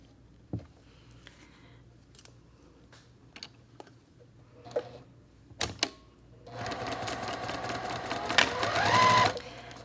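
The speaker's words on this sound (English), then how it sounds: "I'm going to sew without cutting my thread all the way from here down using a 1/4 inch foot" Sewing machine stitching quilt block pieces with a 1/4 inch foot, starting with scattered light clicks and taps, then settling into a steady, fast, close mechanical whirring run that grows louder toward the end.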